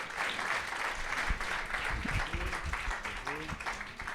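A seated audience gives a sustained round of applause to welcome Dr Réginald Allouche, steady dense clapping that fills the room while a voice speaks over it.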